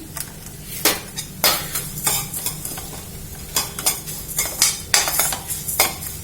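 Dried red chillies and coriander roasting in a pan while a spice powder is made for vangi bath: sharp, repeated scraping strokes of a utensil on metal, irregularly spaced, over a faint continuous sizzle.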